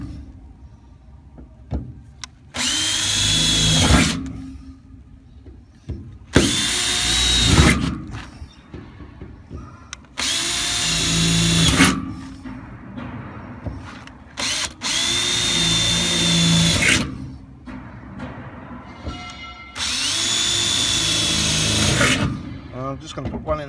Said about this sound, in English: And we're just going to drill through